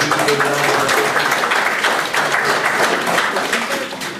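A village hall audience applauds during a mayor's New Year address, a dense, loud and steady patter of many hands clapping that carries on throughout and eases slightly at the end.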